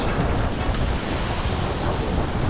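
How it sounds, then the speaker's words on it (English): Ocean waves wash steadily onto a Myrtle Beach shore, a dense, constant roar of surf with faint wind, loud and close throughout with no voices. "you kind of just look along as the waves go out"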